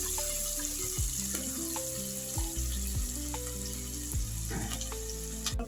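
Chopped onion frying in a pan for a South Indian aloo tomato kurma, with a steady loud sizzle throughout and occasional clinks and stirring knocks. No one speaks.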